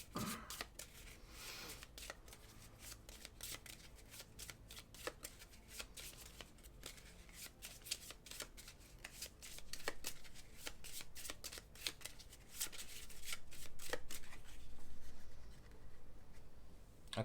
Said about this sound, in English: so those have been shuffled in